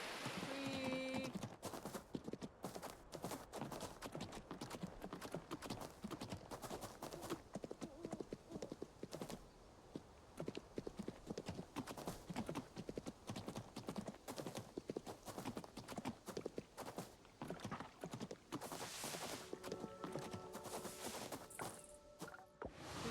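Horse hooves clip-clop steadily in the farming video game Coral Island, a continuous rhythmic trot with a brief whinny-like cue near the end, under light game sounds.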